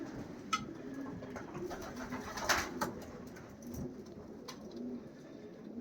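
Racing pigeons, including young yearling cock birds, coo softly inside a loft during breeding season, with low murmuring calls and a few sharper flutters over a steady background hum.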